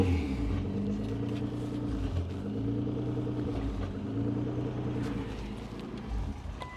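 A 900-horsepower Nissan GT-R idles up close, its turbocharged engine and exhaust giving a deep, steady burbling rumble with a lumpy, pulsing rhythm and slight swells in level, with no talking over it.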